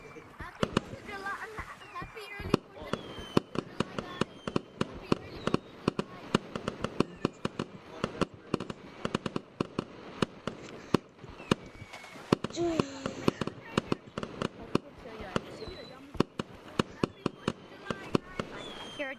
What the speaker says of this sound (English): Fireworks, enjoy the fireworks.